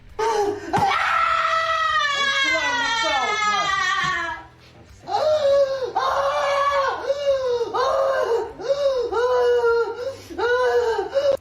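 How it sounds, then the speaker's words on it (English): A woman screams and wails in a drawn-out, sobbing meltdown, loud and close, with long rising cries followed by a brief pause and then a series of shorter, rhythmic anguished yells. "This woman couldn't even muster words and just screamed during her meltdown."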